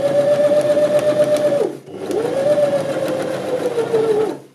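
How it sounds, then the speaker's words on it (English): A sewing machine runs a fabric seam in two steady bursts of motor whine, pausing briefly between them, close and clear with no talking. "So just sewing along with that 1/2 inch seam allowance."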